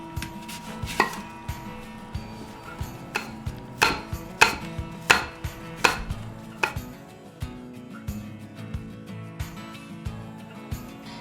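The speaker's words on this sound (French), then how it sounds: "ce qu'on va faire, c'est couper des petites tranches de pommes" Knife slicing apples into small thin slices on a cutting board, about a dozen sharp taps in an uneven rhythm with clusters in the middle, close and crisp with no talk.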